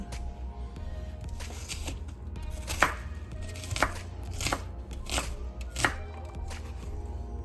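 Knife chopping onion on a cutting board with a dull blade, producing a series of distinct chops roughly once per second, fairly close, over a steady low kitchen hum with no talking.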